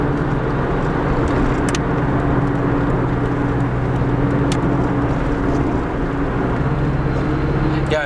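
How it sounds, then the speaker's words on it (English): A Nissan Sileighty S13 with a carbon-disc differential drives steadily, its gear whine riding over a constant engine and road drone. "I'm definitely hearing the gear whine from the differential"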